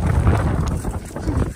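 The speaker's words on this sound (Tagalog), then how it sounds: "Ang lakas ng hangin." Strong outdoor wind buffets the microphone in Canada with a steady low roar and rumble that swells and dips across the whole stretch, with no clear talk over it.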